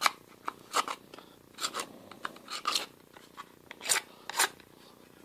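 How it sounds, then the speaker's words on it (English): Vertical knife blade scraping the edge of a 3D printed plastic part, a series of short, dry, crisp scrapes in an irregular rhythm, close and fairly quiet, with no talking. "I kind of like a vertical knife blade as a scraper."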